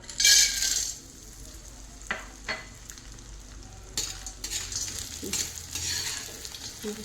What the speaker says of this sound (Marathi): आपण डिंक तळून घेऊया